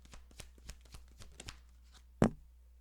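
Tarot cards shuffled by hand in a quiet room, a run of soft, rapid riffling flicks followed by one louder snap as a card is drawn and set down.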